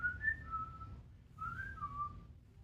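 A person whistles a short rising-and-falling tune in two brief phrases separated by a pause, a voice imitating a little whistle over low room rumble.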